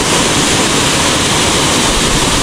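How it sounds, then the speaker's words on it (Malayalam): Thoomanam waterfall in Thrissur roars as a steady, loud, dense rush of falling water, broadband and unbroken from start to finish with no voices. "ഈ ഒരു അന്തരീക്ഷത്തിൽ ഈ ഒരു വെള്ളച്ചാട്ടം ഇങ്ങനെ കാണുമ്പോൾ തന്നെ നല്ല ഭംഗിയാണ്"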